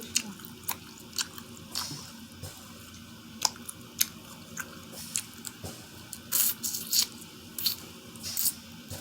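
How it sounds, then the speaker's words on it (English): Close, wet chewing of shrimp from a seafood boil, with irregular smacks, squelches and small crunches scattered over a low room hum and no talking. "shrimp act like it grow when you chew"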